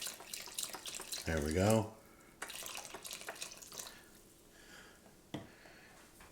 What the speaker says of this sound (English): Put our beef broth in.